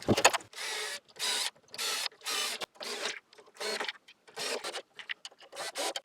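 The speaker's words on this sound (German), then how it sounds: "Also setzen wir hier die Schrauben rein." Screws driven in one after another while mounting a louvre door, each burst of whirring drive lasting under a second and separated by short pauses, close and steady with no talk.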